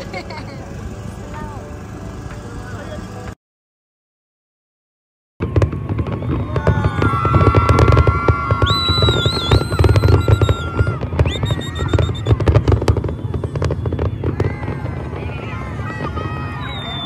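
New Year fireworks burst over the sea in Bahrain, a dense run of loud crackling booms and pops that goes on without a break, with crowd voices and chatter mixed underneath after a short silent gap.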